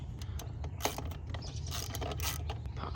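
Quiet, irregular metallic ratcheting and scraping as 10mm bolts are loosened on a BMW E36 Compact with an M4x engine, a string of small clicks over a low steady hum.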